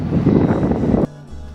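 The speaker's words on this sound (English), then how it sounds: "It is a little bit windy in here" Wind buffets the microphone at a windy viewpoint in Lisbon in a loud, blustery rumble for about a second, then drops abruptly to a quieter background hum.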